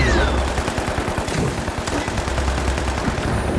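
Machine gun spray fire in the video game The Finals: a continuous, loud, rapid burst of automatic shots that rattles through the whole stretch with no break.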